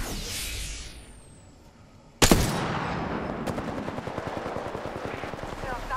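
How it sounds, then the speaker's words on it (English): Gunfire in the video game Apex Legends: after a quieter stretch, a loud burst erupts, then rapid automatic fire rattles steadily in quick repeated shots, close and dominant. "Shots fired."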